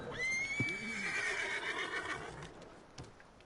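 A horse in the video game Red Dead Redemption II whinnies once, a long shrill neigh that wavers and fades, followed by a few soft hoof clops in the background.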